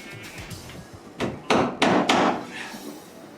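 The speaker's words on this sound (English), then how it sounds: "I see you're tacking in a few temporary nails" A hammer tacks temporary nails into wood during a bathroom renovation: a few light taps, then four loud, sharp, close blows in quick succession before it falls quiet.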